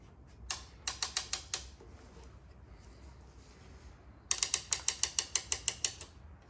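A ratcheting clamp tightens onto plumbing for a diesel combi water heater and furnace: two bursts of sharp, evenly spaced clicks, the second longer, close and clear with no talk.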